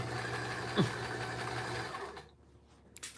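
A sewing machine runs steadily while stitching fabric for a puppet, a continuous mechanical whir with one brief knock near the start before it stops and leaves near silence.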